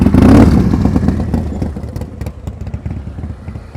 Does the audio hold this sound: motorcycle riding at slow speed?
yes